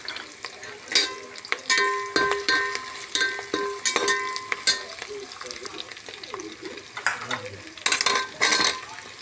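Onion, ginger-garlic paste and green chillies fry in a pan for vegetable pulao, giving a steady close sizzle broken by repeated sharp clinks and scrapes of a spoon stirring against the metal.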